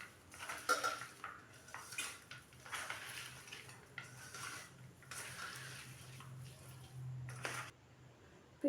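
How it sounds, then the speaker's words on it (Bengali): Chicken chop filling being mixed with spices in a bowl by hand, quiet soft squelching and occasional clinks of the bowl in an irregular rhythm, close but faint with no talk. "এখন ভালো করে মেখে নেব।"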